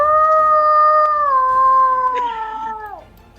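A person imitates a Labrador in heat with one long, steady, close howl that holds for about three seconds and then drops off and fades.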